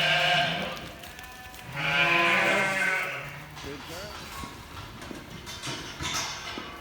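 Sheep bleat loudly in a farm shed, several long wavering calls close by with shorter ones between, over a background of shuffling and low rumble.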